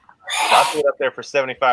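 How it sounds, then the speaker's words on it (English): A woman with allergies lets out a single loud, close sneeze, followed immediately by a person talking. "hearing the nose blowing, the sneezing, the whole works"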